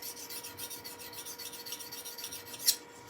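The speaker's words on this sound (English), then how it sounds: "there's nothing stopping you using then a diamond file on that top edge" A diamond file rasps along the top edge of a woodturning tool, a steady soft scraping that repeats with even strokes and ends in one sharper, brighter scrape near the finish, with no talk.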